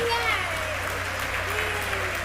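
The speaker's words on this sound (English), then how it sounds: "I have a feeling the crowd's about to go wild here" A large crowd applauds and cheers with a broad, steady roar as a SpaceX Super Heavy booster lands at Starbase, with a voice faintly audible within the noise throughout the short burst.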